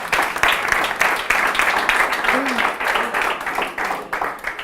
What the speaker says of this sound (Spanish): Un aplauso para el follonero, por favor.